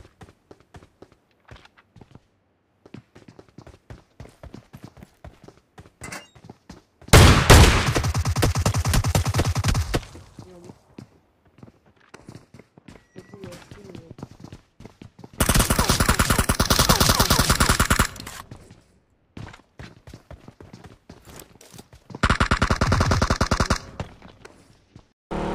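Gunfire in the mobile battle royale game PUBG Mobile, long loud bursts of rapid automatic fire in three stretches, with quieter footsteps and game noises between them.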